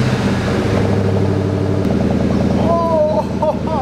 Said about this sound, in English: So I ordered the SLP Loudmouth 1 from American Muscle, but there's the old exhaust. Here's the new exhaust.